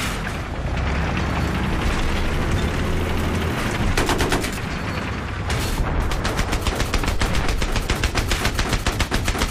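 Battlefield 3 gunfire rattles through a dense, loud firefight, with sustained rapid automatic bursts, heavy booms and explosions, and a long stretch of steady machine-gun fire near the end.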